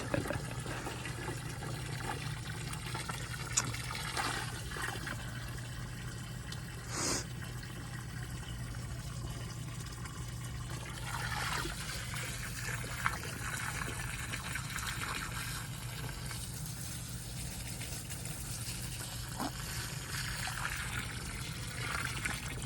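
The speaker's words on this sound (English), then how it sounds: "I hope you guys like the water sounds." Steady trickling water runs throughout, a continuous wet babble with a low constant hum beneath and a few small knocks; no voices.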